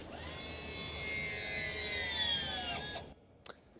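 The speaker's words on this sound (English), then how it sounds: "then a little mini caliper for the park brake. And if you follow these wires around to where Julian's standing, he can operate the system and you can hear it go" A small electric park brake caliper motor on an electric Land Rover, run at maximum setting, whirs with a steady high-pitched whine for about three seconds, then cuts off with a quick click in a quiet space.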